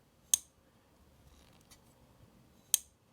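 A Rockstead Hizen pocketknife with a DLC-coated blade is opened with a slow roll, giving two crisp, faint clicks about two seconds apart against near silence.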